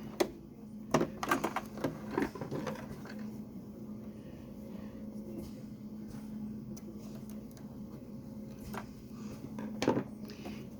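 A sewing machine stitching embroidery, its steady motor hum running throughout with sharper clicks and knocks at the start and again near the end, heard alone without talk.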